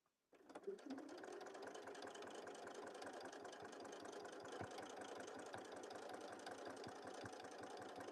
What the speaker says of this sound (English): You're sewing right on the line.